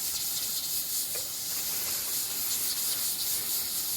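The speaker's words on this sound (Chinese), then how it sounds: "红豆饼煎一下" Red bean cakes fry in a pan on a new camping stove at a high-altitude grassland campsite in Tibet, giving a soft, steady hiss and sizzle close by with no talking.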